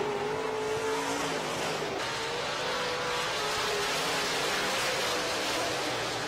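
Modified race cars roar around a dirt speedway in a heat race, engines droning loud and continuous with rising and falling revs as the pack passes.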